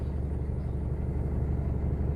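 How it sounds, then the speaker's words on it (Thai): A car engine idles with a low, steady rumble after its EGR hose is removed to clear fault code P0102, fairly quiet and even throughout, with no talking. "ตอนนี้เสียงเครื่องเงียบลงแล้วนะครับ"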